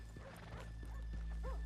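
Horses in the Red Dead Redemption 2 video game, with steady clip-clop hoofbeats and a couple of short whinnies or snorts over a low ambient bed, fairly close and moderately loud.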